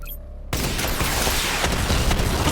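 In Batman Arkham Knight, a missile barrage fires in a sudden, loud, dense roar of launches and blasts that continues without a break after a brief quiet start.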